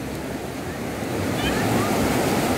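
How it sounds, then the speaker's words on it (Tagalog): Big ocean waves break and wash onto a sandy beach at Abagatanen and Umbrella Rock in Agno, Pangasinan, making a loud, continuous roar that swells midway, mixed with wind buffeting the microphone. "Ayun oh, laki ng alon oh."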